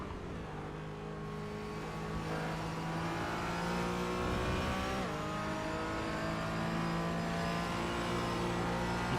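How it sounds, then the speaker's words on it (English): A GT4 race car engine in a sim racing game at Zandvoort revs steadily, then briefly hesitates on the throttle through the final corner before pulling again, a continuous moderately loud drone with no talk. "You can hear the hesitation on the throttle there as they go around the final corner."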